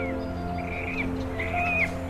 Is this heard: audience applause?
no